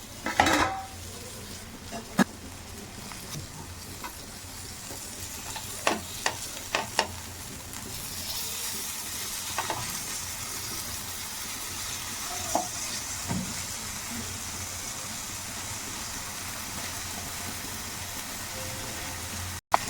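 Dragon fish pan-fries with a steady soft sizzle for a long stretch, punctuated by scattered spatula scrapes and clinks against the pan as pieces are turned, ending in a sharp knock; no talking.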